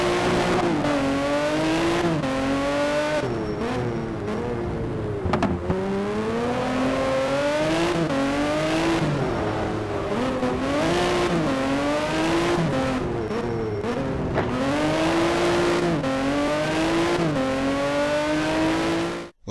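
Corvette GT1 race car lapping Road America in Shift 2: Unleashed, a loud, continuous engine roar rising through the revs with repeated gear shifts, short dips and climbs in pitch, ending abruptly.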